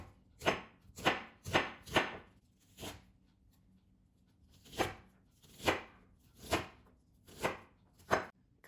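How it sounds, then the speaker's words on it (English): A knife chops onion into small pieces on a cutting board, giving a quiet run of sharp, evenly spaced strokes in two groups with a short pause between them, close by and alone. "Let's cut onion into small pieces."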